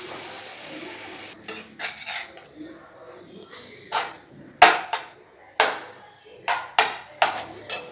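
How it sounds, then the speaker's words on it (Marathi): A spoon scraping and clanking against a pan as eggplant and vegetables are stir-fried for a Maharashtrian village-style amti, with a faint sizzle under a series of sharp metallic strikes. "आता ही भाजी आपण परतून घ्यायची."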